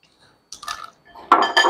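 Dishes, pots and pans clatter and clink in a home kitchen, a few close, brief bursts of clinking crockery separated by short pauses, with no one talking.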